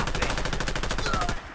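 Rapid automatic gunfire in Fallout London, a dense unbroken burst of sharp shots firing close and loud before cutting off abruptly.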